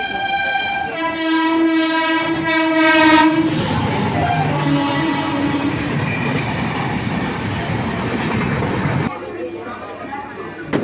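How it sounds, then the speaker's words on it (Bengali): A train pulls out of Janai Road station, opening with a loud sustained multi-tone horn blast before the heavy rumble and rattle of wagons rolls steadily past up close, with faint voices in the background. "এই ট্রেনটা ছাড়ছে দেখতে পাচ্ছি।"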